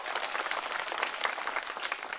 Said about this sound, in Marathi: एकदा जोरदार त्या मॅडमसाठी टाळ्या होऊन जाऊ द्या